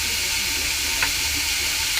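Crushed green chili paste fries in a pan with a brief, loud, even sizzle and hiss close by, with one faint stirring tick, and no speech.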